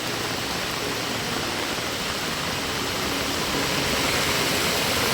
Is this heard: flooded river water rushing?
yes